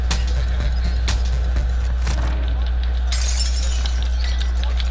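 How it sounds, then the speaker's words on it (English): Glass shattering in the Call of Duty Rebirth Island video game, a sharp crash and breakup about two seconds in, followed by another burst near three seconds, over steady low game rumble and engine drone. "who the fuck just broke glass on me?"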